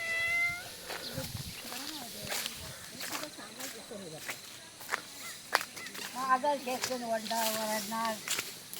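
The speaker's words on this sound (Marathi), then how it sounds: "हा मांजर आपली पाठ कुठं सोडत नाही" A cat meows repeatedly close by during rice harvesting in a village field, its calls rising and falling over several seconds while a person talks in the background.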